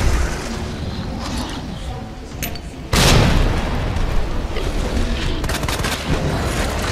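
A grenade blast in the Resident Evil 2 game goes off suddenly about halfway through, a loud broadband boom that leaves a dense rumbling wash of noise behind it.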